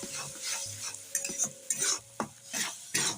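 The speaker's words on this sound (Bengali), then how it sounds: "আর ওই যে মশলাটা আমি জলে গুলে রেখেছিলাম, সেই মশলাটা আমি দিয়ে দিচ্ছি। বেশ ভালো করে কষিয়ে নেব।" Spice paste being stirred and fried for a paneer curry makes a faint sizzle, broken by repeated scraping spoon strokes against the pan at an uneven rhythm.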